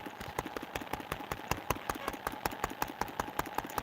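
A small video-game motorcycle engine putters in a quick, regular chugging rhythm, its sharp repeated beats steady and fairly close, with no voices.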